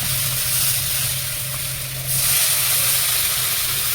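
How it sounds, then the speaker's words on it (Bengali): Water added to a hot pan of frying masoor lentils and cabbage sends up a loud, continuous steamy hiss and sizzle, easing briefly midway then returning, with a low hum beneath. "এবার জল দিয়ে দিচ্ছি"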